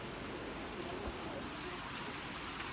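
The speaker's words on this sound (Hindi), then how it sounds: "और ये देखो बारिश तो भाई काफ़ी हो रही है।" Heavy rain pours down along a road in Dehradun, a dense, even roar of falling water that stays constant throughout with no pauses.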